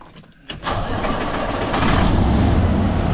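An old tractor engine cranks briefly, then catches and starts, settling into a loud, steady close-up rumble that grows slightly stronger toward the end.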